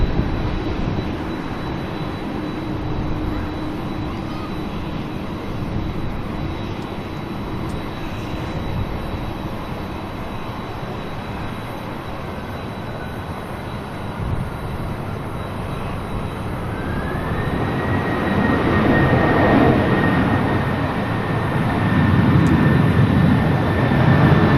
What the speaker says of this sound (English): Qantas 26 coming in from Tokyo to your side there. The A330